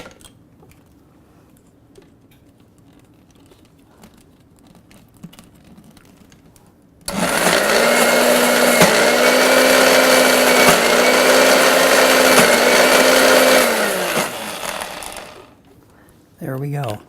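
After a quiet pause, an electric blender whirs loudly for about seven seconds through homemade stone ground mustard. Its motor dips briefly several times in a pulsing rhythm before stopping, and a short burst follows at the end.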